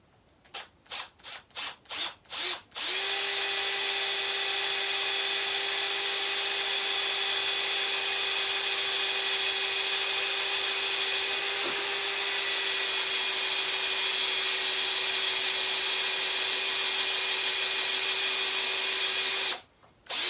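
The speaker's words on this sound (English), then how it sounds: "Make sure it's on drill. I'm going the right way." Power drill set to drill mode boring into wood while building a junk guitar: a few short trigger bursts, then one long steady whine for about seventeen seconds, close and loud, stopping abruptly.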